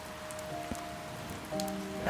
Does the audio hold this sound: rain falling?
yes